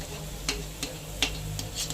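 Palm fruit fritters sizzling in hot oil while being turned, a steady close sizzle punctuated by four or five sharp scraping clicks of a utensil against the pan.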